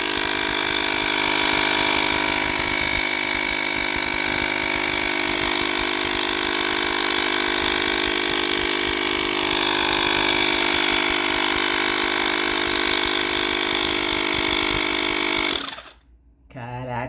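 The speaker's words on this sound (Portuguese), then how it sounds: "Vamos ver ele ligado aqui, o motor, só pra gente ter uma noção como é." A mini air compressor's small electric fan motor runs with a steady, close, loud whine and hum, then cuts off abruptly near the end.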